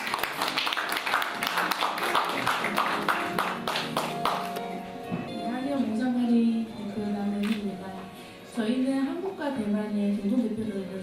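Audience applause at a South Korean awards ceremony: a dense burst of clapping for the first few seconds that fades as music and voices take over.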